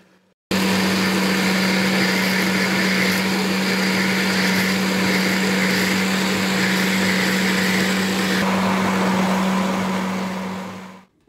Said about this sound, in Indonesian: Jagung manis berserta telur kita blender sampai benar-benar halus.